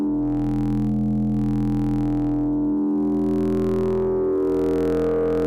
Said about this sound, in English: I've become really partial to running triangle waves through wave folders